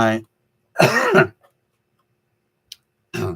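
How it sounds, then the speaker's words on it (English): Allergy coughing: two bursts, a short one at the start and a longer harsh fit in the middle, then a brief click and another short cough, no talking. "I apologize for my cough because I have allergies"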